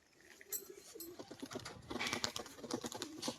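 A male pigeon coos softly in short repeated phrases close by, against a faint background of clicks and rustling.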